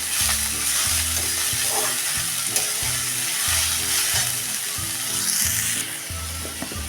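Green chickpeas, chopped into a vegetable dish, stir-fried in a pan with a loud, steady sizzle and a repeated rhythmic scraping of the spatula throughout.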